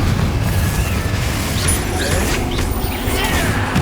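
The Confringo fire spell explodes during combat in the Hogwarts Legacy video game, a loud, sustained booming rumble with crackling debris and whooshing spell effects layered on top, dense and close throughout.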